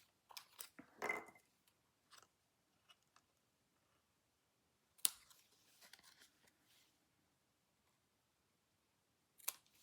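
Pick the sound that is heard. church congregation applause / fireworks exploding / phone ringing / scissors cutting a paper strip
scissors cutting a paper strip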